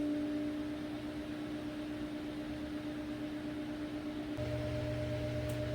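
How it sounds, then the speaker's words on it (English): Steady low mechanical hum with a smooth, even whir from a Samsung stackable washing machine's spin cycle, shifting to a slightly deeper drone near the end; quiet and continuous, no voices. "this spin cycle, super smooth"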